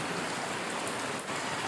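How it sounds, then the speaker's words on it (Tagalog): Heavy rain pours steadily after dinner, a dense, unbroken hiss of drops hitting surfaces, loud and close with no voices. "Lakas ng ulan."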